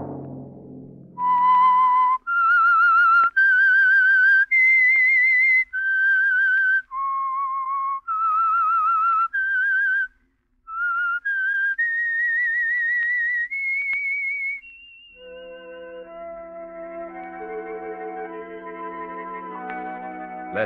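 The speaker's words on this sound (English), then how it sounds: "Let that whistle be your signal for the Signal Oil program, The Whistler." Theme signal of The Whistler, an old mystery radio program sponsored by Signal Oil: a lone, reverberant whistled melody of sustained held notes with brief gaps, followed by an orchestral chord swell, loud and without speech.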